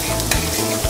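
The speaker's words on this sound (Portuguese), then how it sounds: "Vou dourar o alho" Garlic browns in a thin drizzle of olive oil in a very hot frying pan, making a loud, close burst of sizzling and spattering that lasts under a second.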